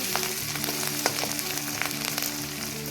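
Spices and curry leaves sizzle steadily in hot oil for a spiced rice dish, with a continuous frying hiss and light stirring clicks close up.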